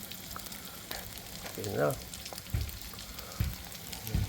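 Pork sisig with egg and white onion sizzles steadily in a hot pan, a continuous frying hiss with a few brief clinks, while a person speaks briefly nearby.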